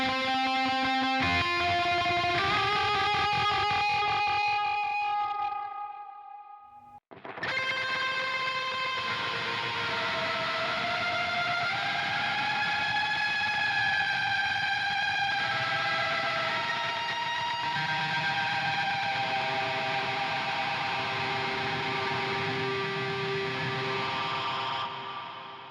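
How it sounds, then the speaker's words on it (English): Electric guitar run through a tape echo effect on the Neural DSP Archetype amp plugin, with layered repeating notes building into a dense, washy wall of sound, a brief dropout near seven seconds, then sustained shimmering echoes continuing loudly. "We've got a tape echo in front."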